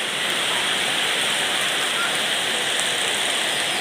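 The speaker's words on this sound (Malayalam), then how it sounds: "ഒടുക്കത്തെ മഴയാണ് ഗൈസ്" Heavy rain pours down steadily on a rainy Sunday, a dense, continuous hiss of water hitting surfaces nearby with no letup, loud and unbroken throughout.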